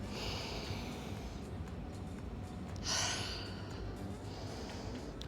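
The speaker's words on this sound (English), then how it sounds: "Deep breath in. Release it out." A single deep breath drawn in and released during a Pilates mat session, heard once midway as a soft whoosh over steady background hiss.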